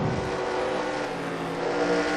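Race car engines in a racing video game on the Kyalami circuit drone and whine continuously, with a steady, loud, buzzing engine tone and a slight rise toward the end, with no voices.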